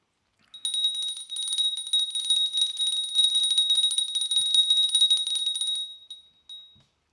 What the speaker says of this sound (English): I really like the bell clearing.